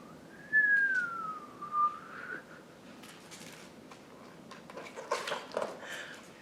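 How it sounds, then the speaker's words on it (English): Wind whistles in a rising and falling tone, loud and near at first, then fading into a breathy rush with scattered soft patter and faint noise bursts, no talk. "the wind began to whistle"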